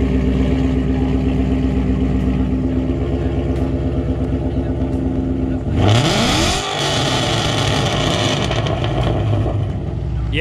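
Loud Ford Mustang Mach 1 V8 engine rumbling steadily, then surging as it revs hard near the end, close and dominant, with people talking over it.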